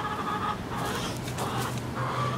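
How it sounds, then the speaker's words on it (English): Chickens cluck in a garden, several short bursts of clucking close by over a steady low background. "Get out of the way, chicken."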